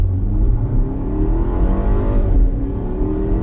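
A compact SUV pulls away from a stop sign under throttle tip-in, its engine note rising loud and close in a smooth, steady climb from the cabin with no talking.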